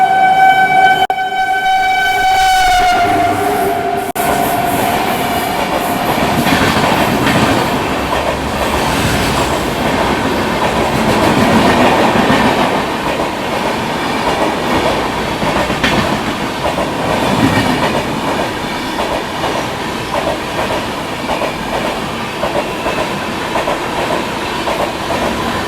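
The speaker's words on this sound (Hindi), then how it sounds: "पहला ओवरटेक ये थी अपनी डिब्रूगढ़ राजधानी एक्सप्रेस।" Dibrugarh Rajdhani Express overtaking and rushing past on the Delhi–Jhansi line, a loud continuous roar of wheels and rattling coaches with a horn blast at the start, sustained and close throughout.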